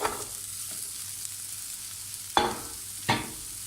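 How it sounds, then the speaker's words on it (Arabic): Onions frying in hot vegetable oil, a steady soft sizzle close by with a few sharp crackling bursts and a faint tap, no talking. "بحط زيت نباتي بحميه شوي وبنزل عليه كمية البصل"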